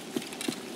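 Weapon being reloaded in the game Escape from Tarkov, heard as two quick soft mechanical clicks about a third of a second apart, close and faint, with no talk.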